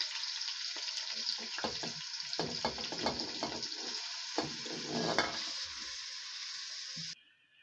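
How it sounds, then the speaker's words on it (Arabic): Onions fry in oil in a pan with a steady, close sizzle, broken by scraping and stirring clatter, until the frying cuts off abruptly near the end. "انا حطيت زيت ونزلت عليه بالبصل هنسيبه يتحمر"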